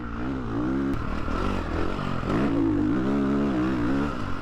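Ducati Desmo motorcycle engine pulling hard under acceleration, a loud, steady, close-up drone whose pitch rises and shifts through the run, with some wind and rattle mixed in.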